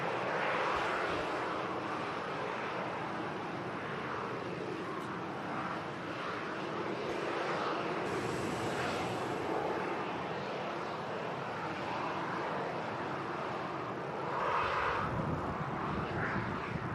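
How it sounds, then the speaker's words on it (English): EasyJet airliner arriving from Paris on its final approach to land at Manchester Airport, a steady broadband jet roar that holds loud and constant throughout, with a slight swell near the end and wind noise mixed in. "from Paris is about to touch down."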